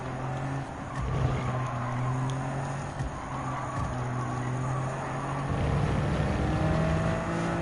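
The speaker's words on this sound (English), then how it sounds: "now's the time to pull the brake" A race car in Gran Turismo 7 slows under braking, its engine note droning and shifting steadily with tyre and road noise, moderately loud and with no talking.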